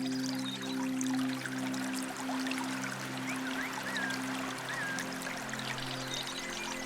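Water pouring and trickling in a block-building game, a soft steady flow and dribble over a low humming tonal music bed, with faint chirping accents.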